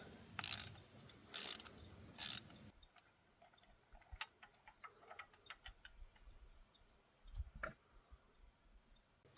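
A ratchet on a 6-inch socket extension clicks in quick bursts while turning a spark plug counterclockwise out of a Chevy Cruze engine, with a few louder knocks early on and sparse ticks afterward, close and otherwise quiet.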